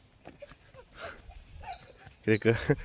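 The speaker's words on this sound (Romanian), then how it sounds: "Cățeluș. Cățeluș." A small puppy in a park near home gives a few short, sharp barks in quick succession at the end, preceded by faint yips and soft background sounds.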